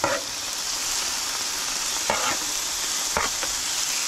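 Deer steak sizzling in a hot pan for fajitas, a constant bright hiss close up, with a few soft knocks as it is moved about, no one speaking.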